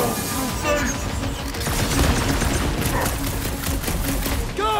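Heavy battle gunfire in the Guardians of the Galaxy video game: dense, continuous volleys of shots and blasts, loud and close throughout, with other game sounds mixed in.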